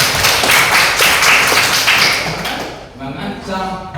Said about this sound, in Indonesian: Ya, tepuk tangan buat kamu.